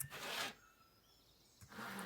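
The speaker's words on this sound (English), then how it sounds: "Oh, we have to saw again." Saw strokes on a log in the video game FATHER, two broad rasping bursts at the start and end separated by a quiet pause, moderately loud with no voices.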